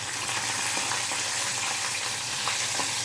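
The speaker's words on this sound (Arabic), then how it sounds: "بنفض كده الدقيق، بنزل في الزيت." Flour-dusted food fries in plenty of hot oil, a dense continuous sizzle and crackle at an even level, close and with no talk.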